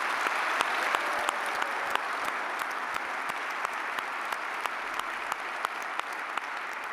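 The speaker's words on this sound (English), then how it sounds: "I think we need a round of applause for these instructors." A large graduation audience at a lineman college applauds its instructors with steady, dense clapping throughout, a few sharper individual claps standing out, with no talking.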